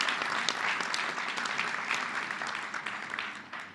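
Sustained audience applause at a charity gala, many hands clapping evenly for several seconds before slowly thinning out at the end.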